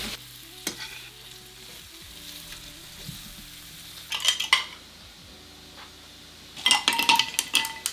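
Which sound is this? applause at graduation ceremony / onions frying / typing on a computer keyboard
onions frying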